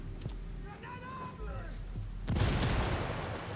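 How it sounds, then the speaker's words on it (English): A grenade detonates in Ghost Recon Wildlands, a sudden loud burst of noise that rolls on as a rumbling wash after quieter moments with faint voices and ambient game sounds. "Did you throw that grenade? Yeah, I did."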